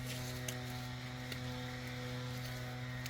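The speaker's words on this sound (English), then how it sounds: "I know you can hear a leaf blower in the background." Leaf blower running outdoors at a distance, a steady droning hum that holds level for the whole stretch with no speech.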